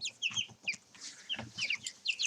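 Chickens clucking and squawking close by during a brief squabble, a rapid burst of overlapping high, agitated calls with no talking.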